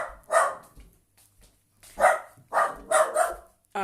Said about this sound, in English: Once again, we have the dog.